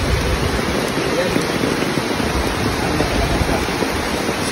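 Heavy typhoon rain pouring over farmland, a dense, loud, continuous hiss with no breaks, close and steady throughout.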